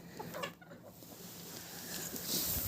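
Chickens cluck softly in the background, scattered calls over a faint ambient hiss, fairly quiet and distant.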